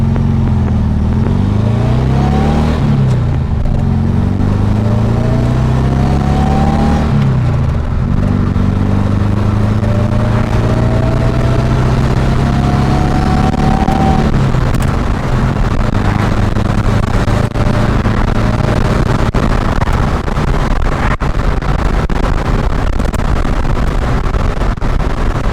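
A supercharged 1600cc VW Beetle or Karmann Ghia engine with an AMR500 supercharger pulls hard on a test drive, a loud steady drone rising in pitch through gears, with a metallic heat shield rattle and clatter running underneath.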